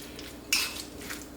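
A spoon stirs tuna melt filling with mayo in a bowl, giving one short, close scrape against the bowl and a faint second clink amid low room hum.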